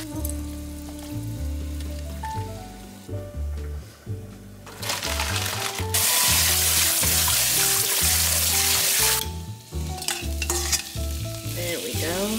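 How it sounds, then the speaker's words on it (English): Two packets of noodles boiling in a pot of water on a home stove while being stirred, with bubbling, sizzling and splashing close by, swelling louder toward the middle, no talk. "I need to start boiling my noodles."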